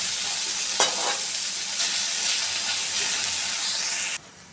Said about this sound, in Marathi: आता आपण तेल टाकून घेऊ आणि ते पनीरचे तुकडे तळून घेऊ